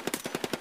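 Rapid automatic gunfire in the video game Escape from Tarkov, a short burst of about seven evenly spaced shots, fairly faint and heard alone without talk.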